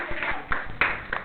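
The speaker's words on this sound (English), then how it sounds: "Well done. Clap for him." Students clap in a classroom, a few scattered, uneven claps rather than sustained applause, with classroom voices and murmuring around them.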